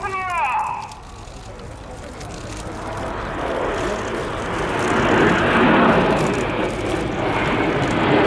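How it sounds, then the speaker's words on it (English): RAF Red Arrows jets fly a close-formation display at the Royal International Air Tattoo, a broad rushing jet roar that swells louder toward the middle, with a commentator speaking over it. "Jet 6 feet apart at 400 miles an hour."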